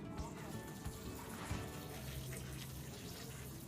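Water poured onto succulents in a clay pot, a steady soft trickling and splashing stream running continuously at moderate volume, with a voice talking faintly underneath.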